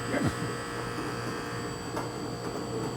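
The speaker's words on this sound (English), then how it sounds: "You listen for the compressor to go on." A freezer compressor in an ice cream maker hums steadily with a constant mains-like buzz, running continuously at close range with no pauses.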